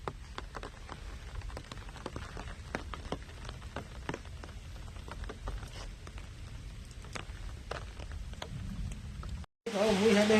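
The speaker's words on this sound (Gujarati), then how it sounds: "અત્યારે તો વરસાદ ચાલુ હોય ના" Steady heavy rain patters across a surface on farmland with scattered sharp drops throughout, then a brief cutout before a louder burst of noise at the very end.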